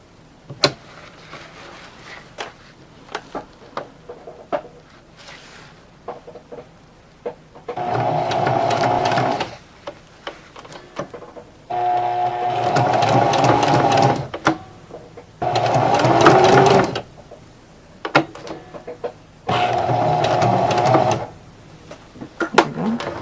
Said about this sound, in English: a good sewing machine.